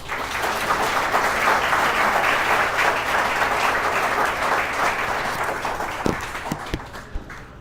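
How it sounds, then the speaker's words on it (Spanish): A church congregation claps for God during a Spanish-language sermon: dense, sustained applause from a crowd that holds steady, then thins out into a few scattered, distinct claps at the end. "Un aplauso a Dios por eso"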